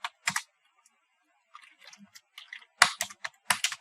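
Keys clack on a computer keyboard in a few short, uneven bursts separated by near-silence, close and fairly crisp, with no talk over them.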